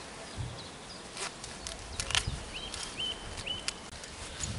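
Bees around beehives, a faint, thin buzzing with occasional insects passing close to the microphone against a quiet outdoor background, with no talk.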